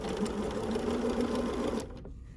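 A BERNINA sewing machine fitted with a #55 leather roller foot stitches steadily at close range, its fast rhythmic whir running for about two seconds before stopping.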